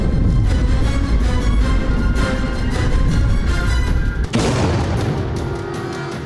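A deep, roaring boom from the 1961 Soviet test of a roughly 50-megaton atomic bomb over the Russian Arctic Sea, loud and sustained, cutting sharply near the end and then fading into a rumble.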